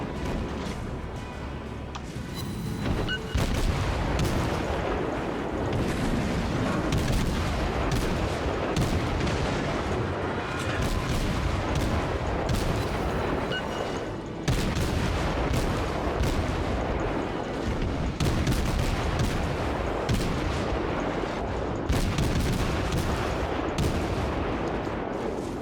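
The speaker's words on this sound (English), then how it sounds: "I'm out here by myself with everything shooting at me." Naval gunfire in the video game World of Warships, with a dense, continuous barrage of booming shots and explosions rumbling for the whole stretch, loud and with no talking.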